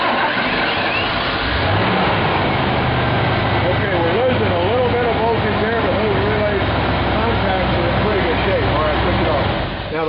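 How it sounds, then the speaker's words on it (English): A car engine cranks, catches and settles into a steady loud idle while diagnosing a no-start fault with low voltage and possible low fuel pressure, running continuously with people talking over it. "go ahead and start the engine."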